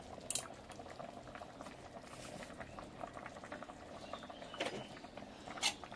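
A covered pot of Bengali fish curry seasoned with cumin and coriander powder bubbles steadily at a low, close simmer, with soft irregular pops and a couple of sharper liquid spits.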